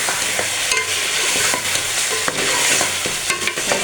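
Chicken sizzles and fries steadily in a pan, with a continuous crackle and occasional stirring scrapes close up.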